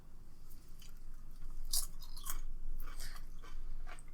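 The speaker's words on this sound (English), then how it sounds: "I've just been over here crunching away the entire time" Someone crunches on chips up close, a quiet run of crisp bites and chewing with a few sharper crackles.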